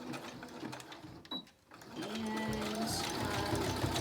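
A sewing machine back-stitching a fabric face mask, its motor starting up partway through and running in a steady, close, continuous hum after a brief pause.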